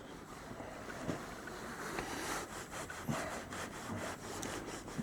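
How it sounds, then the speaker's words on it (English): A rag soaked in lacquer thinner wipes a glued piece during classic car prep, making a steady, close, gritty rubbing with short repeated strokes and small scuffs. "I got a rag here with some lacquer thinner on it."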